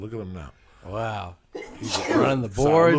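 A man's sneeze bursts out in the middle of a lively podcast chat, one sharp loud blast amid people talking and reacting.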